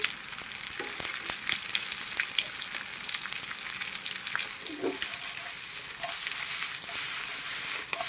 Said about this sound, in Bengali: আমার করলা ভাজা প্রায় ভাজা শেষ